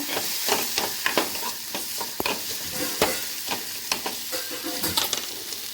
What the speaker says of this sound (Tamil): மஞ்சத்தூள் சாம்பார் தூள் போட்டு நல்லா வணக்கிக்கலாங்க